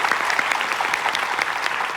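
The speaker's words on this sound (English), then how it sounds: "Give yourself a bit of applause" Audience applause at a talk on healthy living: a brief burst of dense, even clapping from a sizable crowd, loud and close throughout.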